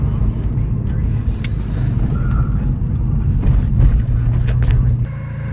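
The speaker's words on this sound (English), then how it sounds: "Seems to be a good running 944 turbo." A 1986 Porsche 944 Turbo heard from inside while driving on the road, a loud steady engine and road rumble with faint rattles, easing slightly near the end.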